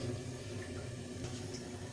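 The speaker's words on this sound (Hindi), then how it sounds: "पानी डाल देंगे शीरे के लिए।" Water pours into a pan of sugar to make sugar syrup for shahi tukray, a steady close trickling stream with no talk.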